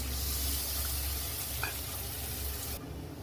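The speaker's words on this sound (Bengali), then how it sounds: "জল দিয়ে দিলাম" Boal and pabda fish fry in a pan as water is added, giving a loud, dense, steady hiss that carries on for nearly three seconds before cutting off abruptly.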